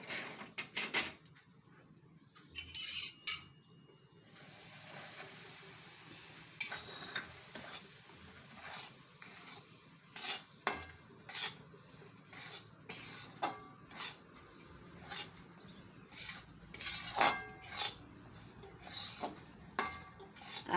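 A spoon stirs flour roasting in ghee in a pan for gund pak, making irregular close metallic scrapes and clinks against the pan over a faint sizzle, with no voices.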